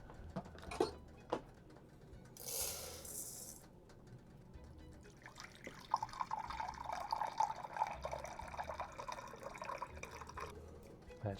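About 1.5 cups of water pours into a container of rice with a gurgling, filling sound, preceded by a few clinks and a brief burst of running water.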